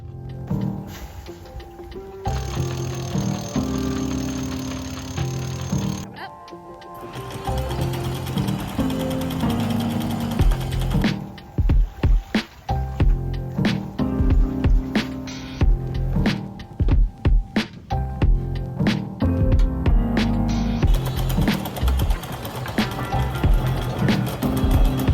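A sailboat anchor is raised off Baja, a loud grinding, ratcheting windlass and chain clatter that runs for the whole stretch, pulsing with rhythmic mechanical clanks and brief pauses under a steady hum.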